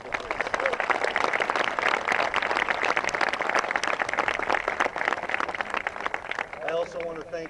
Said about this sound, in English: Let's give a round of applause for all those people, please.